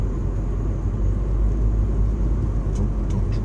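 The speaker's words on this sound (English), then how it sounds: "I see cars coming in the other direction." Cars roll through a road intersection as a steady low traffic rumble, continuous and fairly loud throughout, with a few faint higher hisses near the end; no one speaks.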